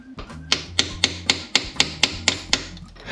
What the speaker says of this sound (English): I'm gonna use my little punch and start banging the other end with the hammer